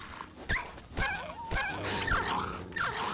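A vicious dog from Fallout 3 growls, yips and whimpers in short bursts, close and fairly loud. Several rough snarls come at irregular intervals with no one speaking.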